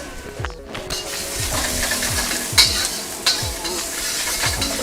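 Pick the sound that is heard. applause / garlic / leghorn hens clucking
garlic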